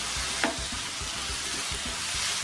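Beetroot sweet being stirred in a pan, a steady sizzling hiss broken by soft regular scraping strokes of the spoon, close and continuous with no talking.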